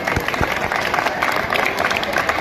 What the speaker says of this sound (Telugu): ఒకసారి గట్టిగా చప్పట్లు వాళ్ళకు